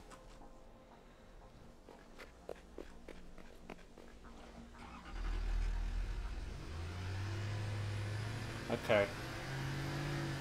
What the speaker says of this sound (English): Hello, tractor.